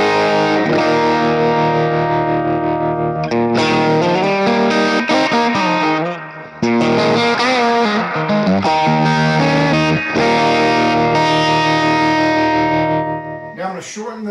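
An electric guitar plays through a Crazy Tube Circuits White Whale reverb pedal in its brown face tremolo mode, with loud, sustained, slightly distorted chords and notes washed in reverb, briefly dropping out once before ringing on.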